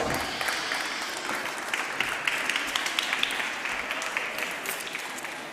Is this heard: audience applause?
yes